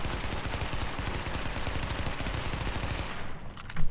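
Rapid SMG fire from The Division, a dense burst of fast, loud shots in a continuous stream for about three seconds before cutting off, with a faint thump at the end.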